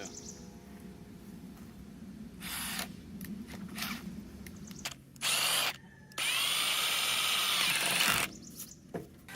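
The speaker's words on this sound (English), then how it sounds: "I did the same thing, just toe nailing the screws right in there." A power drill toe-nails screws into the wood sides of a no-waste hay feeder, with several loud whirring bursts of varying length separated by quieter gaps.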